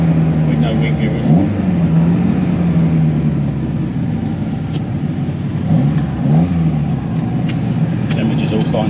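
Ferrari 308 engine hums steadily from inside the cabin while driving after a restoration, a continuous droning rumble with small shifts in pitch, and speech is detected under it.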